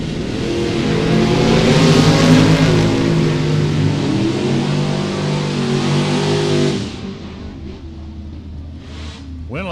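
Drag racing cars roll in at the start line of a Super Pro elimination round, loud engines rumbling and revving steadily, then dropping off to a lower idle.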